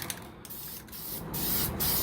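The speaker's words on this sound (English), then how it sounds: "This is definitely a horrible sprayer." A cheap handheld sprayer hisses in short bursts as it coats a 3D printed helmet, close and steady, with brief pauses between sprays.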